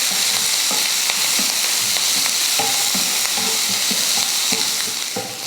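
Mustard seeds, urad dal, onion, curry leaves and green chillies are sautéed in hot oil for a chow chow poriyal, giving a loud, steady sizzle with frequent scraping stir strokes and small pops throughout, close up and without talk.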